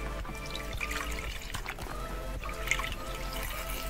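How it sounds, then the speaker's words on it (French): Water splashes and trickles at a basin as a face is rinsed, a soft, steady wet dribble close by with no talking. "je vais remettre une 3e fois de l'eau. Je vais, hop, rincer tout ça."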